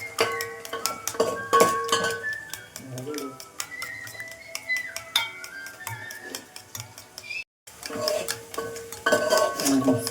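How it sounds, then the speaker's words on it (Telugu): Eggs are beaten in a bowl for fried rice, with quick rhythmic clinks of utensil against the bowl that are loud and close, pausing briefly before resuming, and a voice talking at times. "సో ఎగ్స్ మొత్తం ఇలా బీట్ చేసుకోవాలి"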